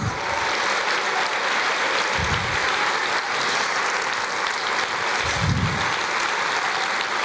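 Steady, dense applause from a church congregation fills the space throughout, loud and continuous, with a preacher's voice breaking through briefly a couple of times.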